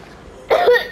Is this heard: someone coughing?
yes